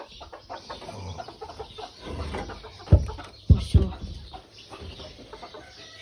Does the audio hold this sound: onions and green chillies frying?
no